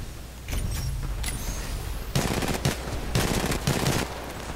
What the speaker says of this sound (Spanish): vamos a tener que esquivar a las Devotions que se nos quedan disparando media hora